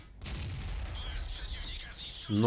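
An M7 tank fires its gun in World of Tanks, a sustained low rumbling boom of battle noise through most of the stretch, ending in a sharper, louder burst near the end.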